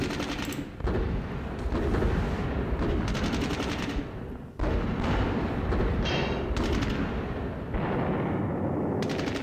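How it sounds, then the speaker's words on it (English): Gunfire and heavy shots from an anti-tank gun in a turn-based World War II wargame, Heavy Tanks at Rossienie, pour out as a loud, dense, continuous crackle of bursts and booms with brief gaps, no voices. "Ooh, AT gun opportunity fired there."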